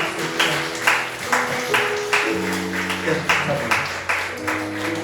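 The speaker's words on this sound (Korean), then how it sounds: "우리 한번 박수 했으면 좋겠습니다." A church youth congregation claps in steady, rhythmic bursts of applause over sustained organ or keyboard chords, with no voices over it.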